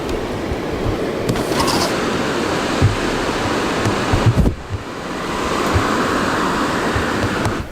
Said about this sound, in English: Did you guys hear the waves?